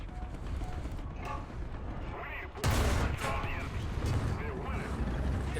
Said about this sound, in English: Our sector is under artillery barrage!